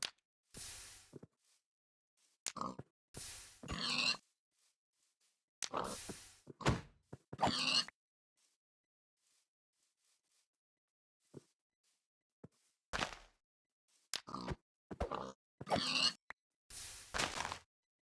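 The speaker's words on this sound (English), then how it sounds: "Stupid pig." Minecraft pig grunts and oinks come in scattered bursts between stretches of silence, with occasional thunks and scrapes, close and fairly loud.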